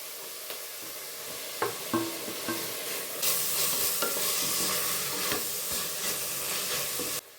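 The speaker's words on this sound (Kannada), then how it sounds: "ಈರುಳ್ಳಿ ಇವಾಗ ಅರ್ಧ ಫ್ರೈ ಆಗಿದೆ ಇದಕ್ಕೆ ನಾನು ಟೊಮೆಟೊ ಹಾಕೋತಾ ಇದ್ದೀನಿ" Half-fried onions and tomato in ghee sizzle in a pan while a spoon stirs and scrapes them, close and steady, with a louder hissing burst partway through.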